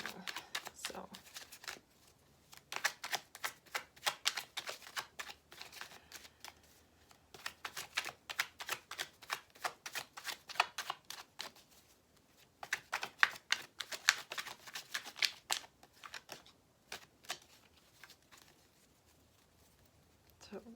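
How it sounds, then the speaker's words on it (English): Tarot cards are shuffled in quick, crisp bursts of riffling and flicking, close and clear, with brief pauses between rounds and no voices. "so cards read from this deck, and then I'll be done shuffling"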